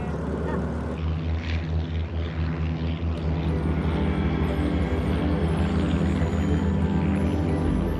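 A small aerobatic propeller airplane taxis and lines up on the runway at the Paris Air Show, its engine droning steadily and loudly at close range, with a steady airfield roar behind it.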